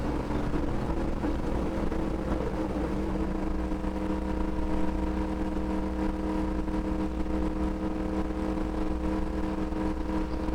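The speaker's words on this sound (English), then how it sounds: "Hit the rev limiter on almost all the final laps." A NASCAR race car's engine runs steadily near the rev limiter at Texas Motor Speedway, a constant loud droning roar heard from inside with no pauses or voices.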